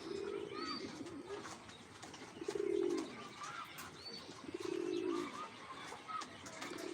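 Pigeons coo in low, rolling bursts that repeat every couple of seconds, joined by scattered chirps and a faint flutter of wings, all fairly close.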